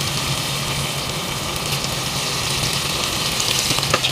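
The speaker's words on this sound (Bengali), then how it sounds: "এইগুলোকে আমি এবারে লাল লাল করে আমি ভেজে নেব।" Rice and lentil mixture frying in white oil in a wok, giving a steady, dense sizzle and crackle that holds evenly throughout, close and fairly loud with no talk.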